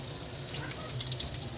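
Water poured onto hot charcoal embers in an outdoor cooking fire, giving a steady close sizzling hiss with faint crackle that lasts the whole brief moment.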